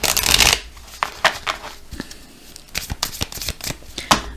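Tarot cards being shuffled, with a loud riffle at the start followed by a string of sharper close slaps and flicks as the deck is handled.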